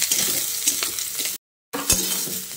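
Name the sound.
marinated soybean chunks frying in mustard oil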